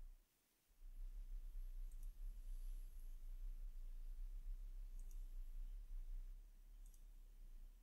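Faint mouse clicks on a computer, about three sharp taps spaced a few seconds apart, over a low steady background hum.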